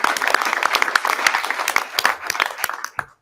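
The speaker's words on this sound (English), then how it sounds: "So round of applause for them." Applause from a school board meeting audience for the team coaches: dense, sustained clapping from a room full of people for about three seconds, then it stops abruptly.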